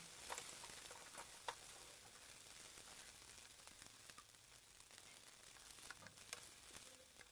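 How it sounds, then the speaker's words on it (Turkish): Stuffed kibbeh, içli köfte, fry in hot oil, a faint, steady sizzle with small crackles and pops scattered throughout and no one speaking. "Önceden kızdırılmış kızgın yağma iç köftelerimi koyuyorum"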